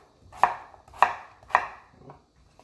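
Three sharp knife strokes through sweet potato and zucchini on a cutting board, evenly spaced about half a second apart, then a softer fourth tap, close and clear in a quiet kitchen.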